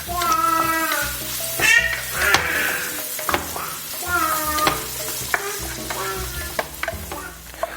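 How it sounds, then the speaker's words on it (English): Mushrooms sautéing in butter for a pasta sauce, a steady close sizzle broken by repeated scraping stirs of a spoon against the pan, with a few sharp clinks along the way. "we're going to let this go until the mushrooms are nice and saturated and sauteed"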